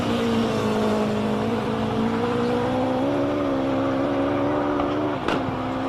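At a hill climb, a race car's engine screams continuously at high revs with a rough gear change, the pitch stepping and wavering before a sharp crack near the end.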